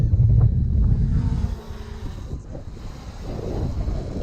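GoPro Karma drone flying upwind at full speed in sport mode: a steady roaring rush heavily mixed with wind buffeting the microphone, loud and continuous, easing slightly midway before building again.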